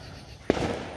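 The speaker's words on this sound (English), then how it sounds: "they're setting off firecrackers" A single sharp firecracker bang goes off nearby during Fourth of July celebrations set off by neighbors, followed by a lingering crackling rumble as it fades.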